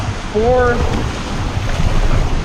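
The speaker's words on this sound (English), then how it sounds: "All because a guy went by with a boat. Now he's splashing me." Waves from a passing boat's wake splashing against shoreline rocks, a loud, steady wash of surf with heavy wind buffeting the microphone and a brief whistling tone near the start.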